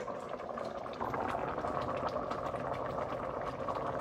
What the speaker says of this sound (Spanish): now we have our boil going